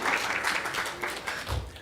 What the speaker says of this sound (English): You can clap for them because it's their moment tonight.